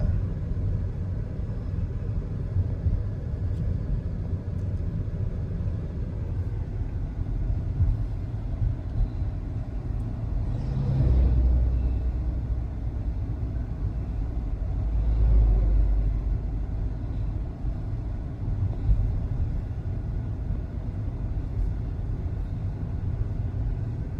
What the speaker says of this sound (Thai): เดี๋ยวมันเริ่มจะเบรกตามรถคันหน้า